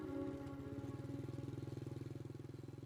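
A motorbike being ridden, its engine giving a steady, close, pulsing thrum with a regular rhythmic beat throughout.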